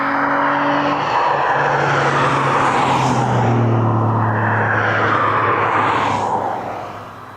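Aircraft taxiing at East Midlands Airport, a loud, close engine drone with a sustained whine and rumble that shifts slightly in pitch, then fades toward the end.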